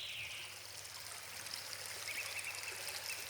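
A steady rush of flowing water from a nearby river running over rocks, continuous and fairly soft with no voices.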